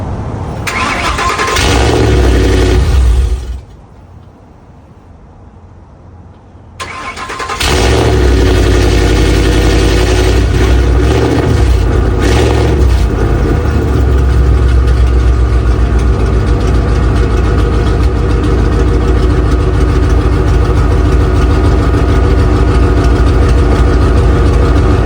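A truck engine fitted with a 3.5-inch polished straight pipe exhaust cranks, cuts out, then starts and settles into a loud, deep, steady rumbling idle close by.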